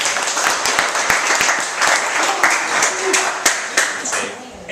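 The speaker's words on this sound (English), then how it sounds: "Give them a round of applause." An audience gives a dense, steady round of applause for the team arguing for school choice at a school debate, with many hands clapping evenly for several seconds.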